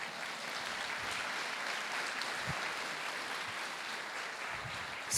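A church congregation applauds during a sermon, a steady wash of clapping at moderate level running throughout without any voices.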